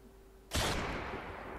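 A single sharp gunshot in the video game Blinding Dark bursts out after a brief quiet hum, then a noisy decaying tail fades away.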